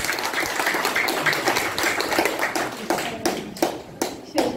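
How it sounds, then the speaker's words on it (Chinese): Audience applause at an art exhibition opening, dense clapping that thins into scattered separate claps toward the end. "来掌声鼓励。"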